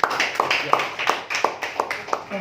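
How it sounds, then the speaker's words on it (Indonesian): A church congregation claps along during a worship service, with irregular bursts of hand claps rising over a crowded, reverberant room and voices underneath. "Beri tepuk tangan untuk Tuhan kita Yesus Kristus"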